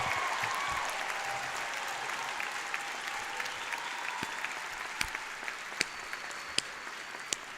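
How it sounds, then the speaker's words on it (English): Sustained applause from a large audience at a college commencement ceremony, a steady even wash of clapping heard from some distance, with a few sharper individual claps near the end. "May we have a robust round of applause for this amazing class of 2024."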